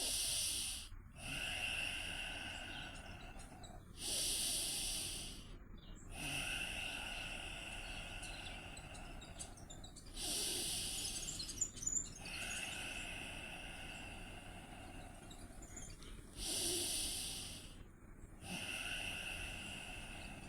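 Slow, deep breaths during a qi gong exercise come in long airy hissing swells with short quiet gaps between them, steady and close. No voices are heard.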